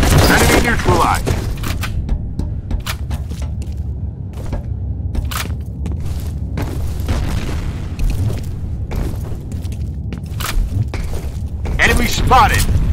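Grenade explosions in the shooter video game F.E.A.R. Combat, a dense run of loud booms and cracking bursts mixed with gunfire, with shouted voices among them.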